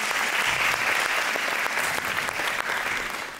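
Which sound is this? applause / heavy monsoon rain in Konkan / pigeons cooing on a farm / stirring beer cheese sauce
applause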